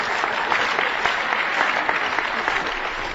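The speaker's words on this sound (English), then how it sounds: "I don't know if you're applauding the questioner or me" A lecture audience breaks into dense, sustained applause, steady and fairly loud throughout, with no speech over it.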